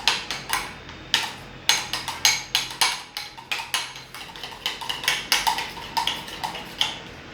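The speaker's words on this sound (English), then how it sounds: "Gonna give it a good whisk." A whisk beating lumpy banana pancake batter in a bowl, a quick, steady run of sharp clinks and scrapes close up, repeated strokes without pause.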